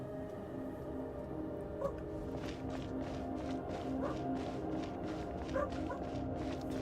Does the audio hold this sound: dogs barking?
yes